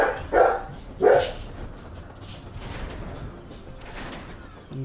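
Dog barking in the Final Fantasy XIV video game: two loud, sharp barks close together near the start, then fainter whimpering yips trailing off over a low background.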